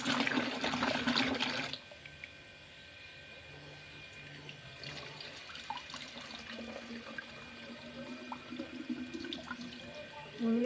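Water is poured from a tap into a container to measure three litres for a garden pest spray, a loud rush at first and then a steady, softer trickle with a faint murmur in the background.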